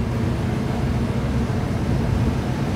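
An ERE-383 small-cam V8 engine on a dyno roars at a sustained high rev toward 6,400 rpm. The steady, loud, broadband drone holds evenly throughout.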